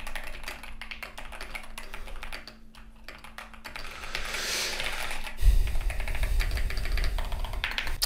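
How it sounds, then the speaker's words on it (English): Rapid, close clicking of typing on a Keychron K2 HE mechanical keyboard, steady keystrokes with brief pauses and a slightly louder burst toward the end. "And now let me do a bit of typing here."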